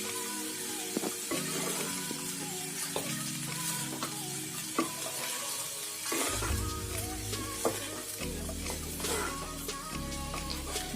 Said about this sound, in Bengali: এবার আমি রাইসের সাথে ভালো করে মিক্সড করে নেব।